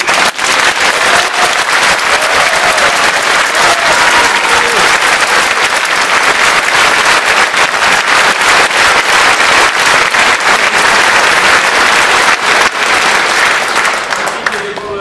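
An opera house audience at an anniversary concert of the National Opera of Ukraine claps in loud, sustained applause, a thick unbroken roar of many hands that holds for the full length.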